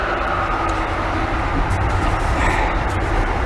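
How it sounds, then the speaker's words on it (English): A passing train makes a loud, steady low rumble with a continuous rolling roar that swells slightly toward the end. No one speaks over it. "here comes the train"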